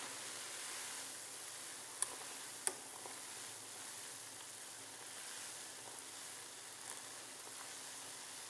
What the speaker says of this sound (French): Il faut le laisser bouillir pendant 5 minutes